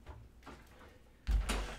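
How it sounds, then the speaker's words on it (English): A room door shut indoors, with faint shuffling first, then a solid thud and rattle of the door closing near the microphone in the last half second. "let me actually just shut the door real quick"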